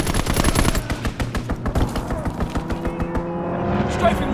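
Rapid machine gun bursts from a strafing run in a World War II style strategy video game, loud dense rattling fire that thins out toward the end over a rumbling background.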